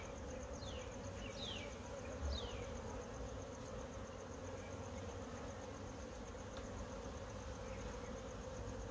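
Honeybees drone steadily at a hive during rehiving in South Africa, a constant low buzz with occasional individual bees zipping past up close.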